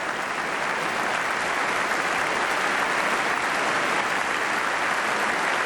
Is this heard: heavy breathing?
no